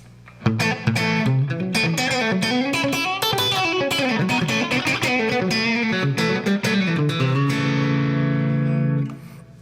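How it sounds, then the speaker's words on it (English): Electric guitar played with hybrid pick-and-finger chicken picking through a compressor pedal placed in the effects loop, giving squashed, clucking notes; a fast run of sharp plucked notes and double-stops, steady and close, ending on a sustained held note. "A lot of that authentic chicken picking clocking sound comes from using a compressor and having it squash the sound quite a bit."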